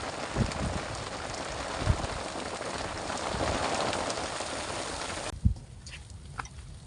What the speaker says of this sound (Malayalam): ഓ നല്ല മഴ വലിയ തുള്ളികൾ